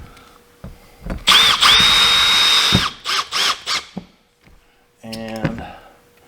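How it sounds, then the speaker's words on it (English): A power drill drives new screws in through a few loud whirring bursts of varying length, separated by short pauses, and speech occurs between them. "So we're just gonna go around and put all these new screws in."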